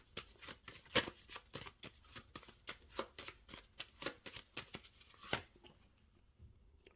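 A deck of tarot cards being shuffled by hand in a quick run of crisp riffling flutters and slaps, close and fairly loud, ending in a final snap before near silence.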